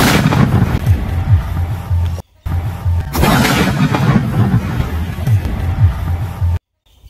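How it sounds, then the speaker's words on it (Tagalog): A traditional Filipino bamboo cannon (kanyong kawayan) fires in heavy, booming blasts that fill the air with a dense roar, broken by two abrupt silent gaps. "yun ang magsisilbing pinakamitsa para pumutok yung ating kanyon"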